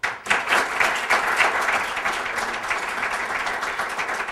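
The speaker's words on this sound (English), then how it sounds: "Give another big round of applause" Loud, sustained audience applause at an agricultural education event, a dense crowd of clappers filling the room throughout with no break.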